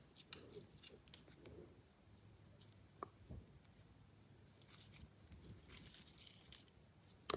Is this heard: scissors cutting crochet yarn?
yes